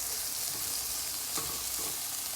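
Garlic sizzles and fries in hot oil in a pan, a steady close crackling hiss with a few soft scraping stirs partway through, no talking.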